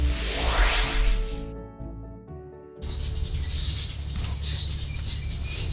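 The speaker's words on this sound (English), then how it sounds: "I hear a squeaky machine." A squeaky excavator arrives on a Portugal homestead with a loud metallic creak and grinding, then a brief lull before the rumbling, rattling machinery noise resumes and continues nearby.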